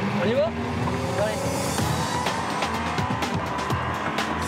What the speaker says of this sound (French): un véhicule passe comme une flèche sous le nez des policiers